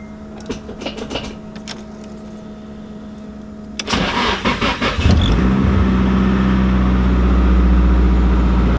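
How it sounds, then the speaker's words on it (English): A Volvo 240 with a freshly insulated interior cranks and fires up, the engine catching after a few seconds of starter churn, then settling into a steady close idle with a low rumble. "start the car and see what it sounds like."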